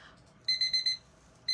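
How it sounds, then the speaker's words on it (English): A timer alarm beeps, with four quick, shrill electronic beeps followed by a pause and another beep, close and clear over a faint background. "there's our timer."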